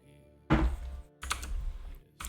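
A computer keyboard is typed on in a few loud, close bursts of clacking keystrokes, separated by brief pauses, with no talking.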